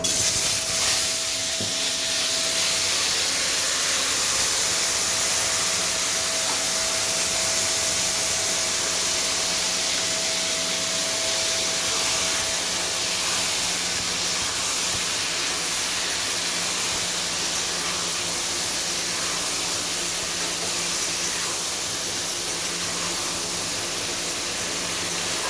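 Jujubes dropped into hot mustard oil for a pickle, producing a loud, continuous sizzling hiss that stays steady and close for the whole stretch, with no speech.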